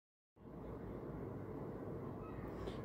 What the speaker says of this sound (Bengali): ওই যে মেট্রো রেল যাচ্ছে।